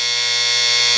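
A harsh electric alarm buzzer from a Philco 53-702 clock radio drones loud and unbroken, a steady rasping buzz heard close up with no talk.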